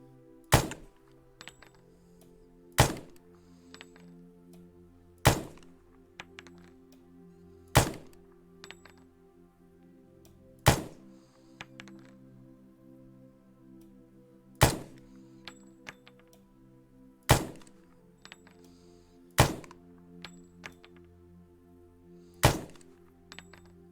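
Rifle shots fired from a crouching position in the military video game Arma 3: about ten sharp, loud single reports spaced roughly two seconds apart, with no talk.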